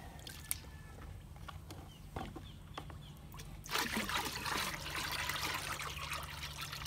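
Low steady hum with scattered drips, then a sudden rush of water pouring continuously and fairly close, as water is added to a plant drench of calcium nitrate, humic acid and fungicide.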